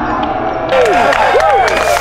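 Golf tournament gallery at the Savannah Open finals cheering and clapping after a putt on the first hole, a broad crowd roar rising halfway through and holding steady, with a commentator talking over it.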